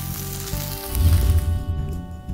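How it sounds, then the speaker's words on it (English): Continuous crackling sizzle of salmon frying skin down in a hot pan, close and steady, with a hum in the background. "we just add our salmon skin down. It starts sizzling right away"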